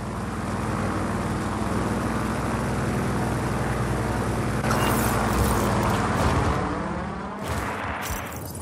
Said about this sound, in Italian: Velivolo non identificato, qui torre AGB. State entrando in uno spazio aereo vietato.